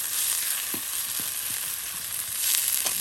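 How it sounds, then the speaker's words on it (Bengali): Chickpeas sizzle steadily in hot oil with chopped onion, garlic and green chili, a close, continuous frying hiss with a few soft stirring knocks and no voices. "আর এখন বুট বিরান করা হবে।"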